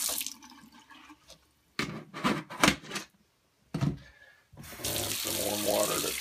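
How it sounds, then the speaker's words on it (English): Warm water running from a tap onto dog food in a bowl, a few short bursts of splashing flow with brief pauses, ending in a longer steady stream. "And some warm water to top it off."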